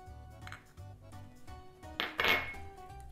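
Chicken mince and egg are stirred together in a bowl, a spoon clinking and tapping against the side in a few quick, close knocks over a low background hum.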